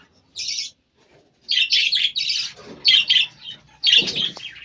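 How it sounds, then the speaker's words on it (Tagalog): Pet birds chirping close by in short, bright bursts of squeaky calls separated by brief pauses, with some faint lower rustling. "tapos na natin mapakain ang ating mga alagang ibon. Ayan sila oh."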